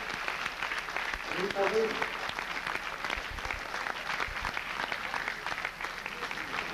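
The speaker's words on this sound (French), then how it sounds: "Vous pouvez l'applaudir encore." Audience applause at a ceremony honouring an actress, steady dense clapping across the whole stretch, with a voice speaking briefly over it near the start.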